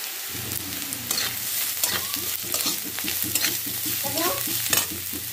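Carrots dropped into a pan of golden frying onions and peas, then stirred: continuous oily sizzle with a regular train of spatula scrapes and taps against the pan, close and fairly loud.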